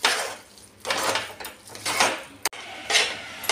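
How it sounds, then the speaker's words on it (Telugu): A spoon stirs melted jaggery mixed with sweet potato in a pot. Repeated scraping and clattering strokes come in bursts against the pot, close and fairly loud, with short pauses between them and no speech. "నాకు ఇట్లా మంచిగా కలుపుకోవాలి కరిగించిన బెల్లాన్ని"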